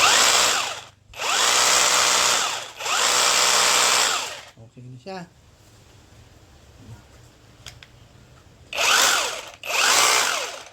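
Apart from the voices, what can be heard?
cordless chipping gun running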